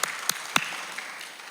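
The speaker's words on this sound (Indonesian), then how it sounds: "Kasih tepuk tangan dulu." Church congregation clapping in response to a pastor's call, a short burst of scattered claps with a few sharp louder ones, fading quickly.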